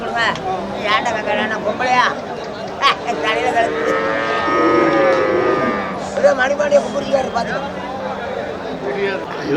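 Cattle lowing at a busy livestock market, long loud moos close by with people chattering and talking throughout.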